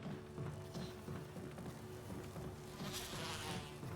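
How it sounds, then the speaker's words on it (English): Bees buzz steadily in the Resident Evil remake video game, a faint continuous drone with a swelling hiss near the end and no talk. "That would be where the bees are coming from."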